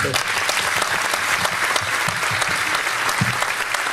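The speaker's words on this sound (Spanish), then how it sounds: "quería pedir un aplauso" An audience at a Spanish-language debate event applauds the organizer, steady crowded clapping throughout with a few louder individual claps, and faint voices mixed underneath.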